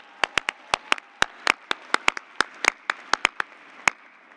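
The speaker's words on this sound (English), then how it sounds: "I think that deserves a round of applause." A small number of people at a law school convocation clap in sharp, distinct, irregular hand claps, close and crisp, with no talking.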